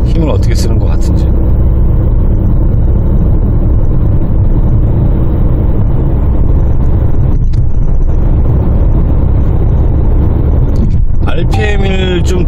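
A 2016 Nissan Qashqai pulls up a slight incline under steady throttle, its engine droning low beneath wind and road rumble from inside the cabin, with a voice talking near the end.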